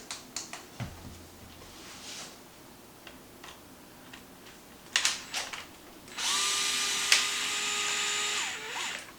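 Small 2.5 screws backed out of a Traxxas Maxx RC car skid plate: scattered light ticks and clicks, then a steady whirring power driver that runs for about three seconds.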